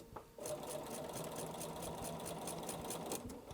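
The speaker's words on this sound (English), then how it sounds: "all we're going to do is just stitch following that seam" A sewing machine stitches quilt fabric along a seam, its fast steady needle chatter starting abruptly and running evenly at close range, with no talking.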